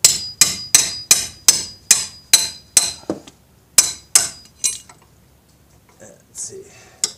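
A Jeep Grand Cherokee wheel hub being hammered loose from rusted mounting: a fast run of about eleven sharp, ringing metal blows at a steady rhythm, close and loud, then a pause, a few more strikes and quieter clinks.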